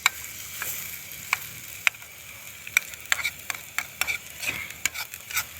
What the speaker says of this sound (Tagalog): Ito na, gigisa natin.